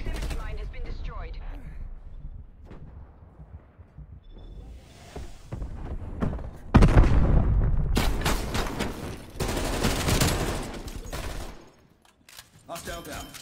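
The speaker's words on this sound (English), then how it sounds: "Artillery targeting active. Molotov going out. Prox mine destroyed. Incoming artillery." Incoming artillery and gunfire in a Call of Duty online match: a sustained, dense roar of rapid shots and blasts builds and swells, then drops away to quieter scattered noise.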